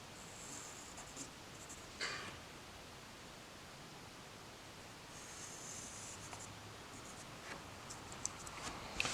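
A pen scratches across paper while a graph is drawn for an Algebra 2 lesson, a faint, continuous scratching over a steady background hiss, with a few slightly louder strokes and no speech.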